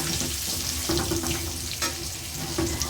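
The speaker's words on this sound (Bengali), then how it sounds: "এখন আলুগুলো হালকা করে ভেজে নেব" Sliced potatoes frying in a pan with turmeric and salt, a close, continuous crackling sizzle with brief stirring scrapes throughout.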